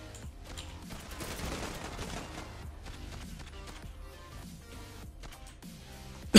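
Rapid AUG-A3 rifle gunfire in the online shooter Zula, a dense run of single and automatic shots with game music and effects, loud and continuous throughout, ending in a sharp burst.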